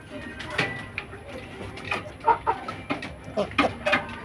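Two hens in a large cage cluck in short, uneven bursts close by, with a voice murmuring faintly now and then.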